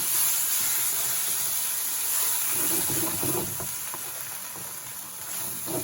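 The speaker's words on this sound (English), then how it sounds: "And give it a good stir." Thai jungle duck curry with paste being stirred in a pan, a steady sizzling hiss with soft scraping and stirring textures throughout, no voices.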